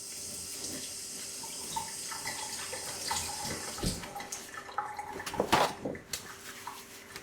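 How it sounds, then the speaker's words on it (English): A kitchen tap runs steadily into a sink while a hand is rinsed under it during omelet cooking, a close, soft splashing stream broken by a few louder splats and clinks near the end. "Just rinse my hand off."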